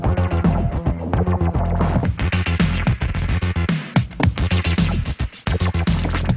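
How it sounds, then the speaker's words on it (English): Continuous electronic dance music plays loud and steady as a filter on a Rane SVM 1000 DJ mixer gradually sweeps across it, shifting the tone of the beat. "So you can creep in a filter like this."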